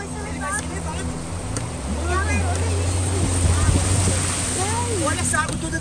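Flood water in a storm in a video game, sweeping a car away as a continuous rushing, roaring wash with a low engine-like hum, while someone talks excitedly over it.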